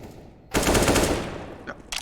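Loud burst of automatic gunfire in a competitive video game match, a collegiate tournament semifinal, erupting after a half-second of quiet and rattling continuously, with a couple of short follow-up shots near the end.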